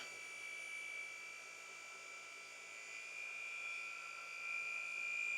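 Car polisher running steadily, a continuous high-pitched machine whine with a sharp tonal edge that holds level and swells slightly toward the end, heard alone without talk.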